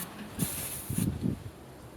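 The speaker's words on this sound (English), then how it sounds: "Spray paint time!" An aerosol can sprays a dark brown undercoat onto kitbashed human miniatures in two short hissing bursts, the first brief and the second longer, close by, with light handling noises between.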